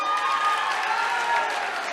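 An audience at a business motivational meeting claps steadily for about two seconds, a dense, even wash of applause without talk.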